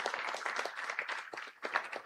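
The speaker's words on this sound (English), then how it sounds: "A big round of applause for them." A summit audience gives a round of applause for the event's organisers and leaders, a fairly quiet, uneven patter of many hands that dips briefly near the end and then swells again.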